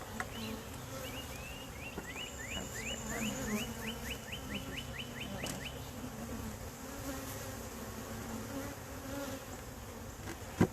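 Honey bees buzzing steadily at a hive, a dense continuous drone, while a bird chirps a quick repeated series partway through.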